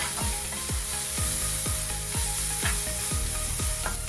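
Ingredients with pepper powder sauté in a pan, giving a steady sizzle with a regular series of scraping spatula strokes about every half second, close and clear with no talking.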